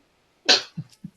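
A single sharp sneeze bursts out nearby, followed by a couple of short soft breathy sounds, in a quiet room.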